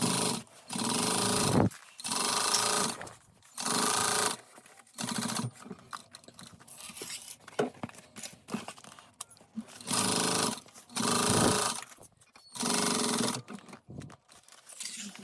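A sewing machine backstitches a backpack seam in repeated short runs, each a loud buzzing burst separated by brief pauses, close up and alone.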